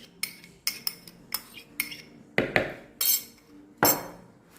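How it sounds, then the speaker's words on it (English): A metal spoon scrapes and clinks against a bowl while stirring plain curd for a mutton curry marinade, heard as a string of close, sharp taps and a few longer scrapes, without any talking. "This is plain curd that I'm mixing in this."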